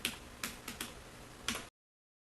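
A handful of separate keystrokes on a computer keyboard, close and quiet, irregularly spaced clicks with no talk, ending in silence.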